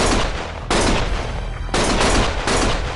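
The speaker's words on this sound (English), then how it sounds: "Stop shooting!" Gunfire in the action game Lost Judgment: dense, loud bursts of rapid shots come in several waves with brief gaps, close and harsh, with no talk.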